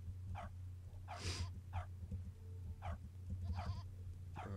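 Sheep bleating in the video game Revenge of Dog: several short, faint bleats spaced irregularly over a steady low hum of game music or ambience.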